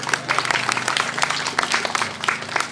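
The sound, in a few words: applause at mushala inauguration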